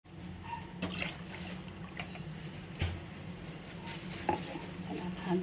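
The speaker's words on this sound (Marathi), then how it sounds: "हे भांडं धुवून घेणार आहे थोडं पाणी" A cooking pot rinsed with a little water in a home kitchen, faint sloshing and trickling with a few light clinks and scrapes of metal, quiet and close with no voices.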